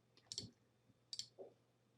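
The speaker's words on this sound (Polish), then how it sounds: "W tym celu klikamy tutaj ikonę tej starej dyskietki" Computer mouse clicking in the Farming Simulator 19 map editor, two crisp, close, quiet clicks about a second apart, each with a soft double snap, in an otherwise near-silent room.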